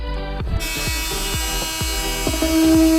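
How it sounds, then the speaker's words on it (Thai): A small electric drill boring holes in a plastic box that houses a charger for RC car batteries, a whirring motor pulsing in short repeated bursts, close and steady, swelling louder at the end. "นี่เจาะรูนะครับผมเจาะแล้วก็"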